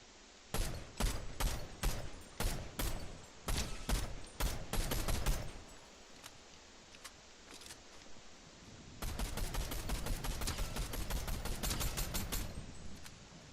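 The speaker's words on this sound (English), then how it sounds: "All these bullets on him and it's just not hitting." Rapid gunfire in the Fortnite video game, with dense volleys of loud shots for about five seconds, a short lull, then another sustained burst of fast repeated fire.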